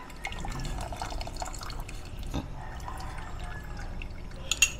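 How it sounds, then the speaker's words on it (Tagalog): Broth with fish bagoong, ginger and onion simmers in a pot, giving a steady close bubbling and dripping texture with occasional small clinks, no voices over it. "Tapos, lagyan natin ng bagoong isda. Pakuluan natin."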